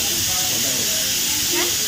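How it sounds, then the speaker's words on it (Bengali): A pressure cooker holding meat curry hisses steam in a steady broadband rush, with a short whistle-like rise near the end and faint talk in the background. "মাংসের তরকারি আবার প্রেসারে দেওয়া।"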